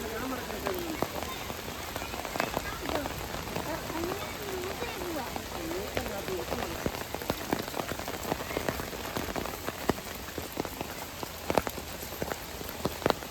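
Rain patters steadily over a forest canopy at Kodanadu, with dense drops and sharper ticks throughout and birds calling faintly beneath.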